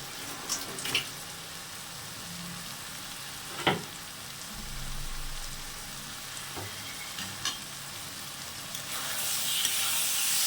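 Boiled banana flower being stir-fried with prawns in a pan, a soft steady sizzle with a few sharp spatula scrapes and knocks, louder hissing building toward the end.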